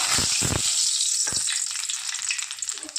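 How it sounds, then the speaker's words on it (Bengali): Black cumin seeds hit hot mustard oil for a tempering and burst into a loud, close sizzle. The hiss stays strong throughout, and crackling pops speckle it as the seeds fry. "এদিকে তেল তো গরম হয়ে গেছে, দিয়ে দেবো ফোড়নে কালো জিরে।"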